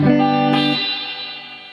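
Electric guitar chord played through a 1965 Fender 6G15 tube reverb unit, a bright sustained strum, then a second stroke whose long, splashy surf-style reverb tail washes out and decays over the final second, heard alone.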